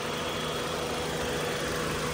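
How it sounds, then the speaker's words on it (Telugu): A 2021 Maruti Swift Dzire VXI car engine idles with the bonnet open, making a steady, even hum up close that runs without change and has no speech over it. "వెహికల్ రన్నింగ్లోనే ఉంది"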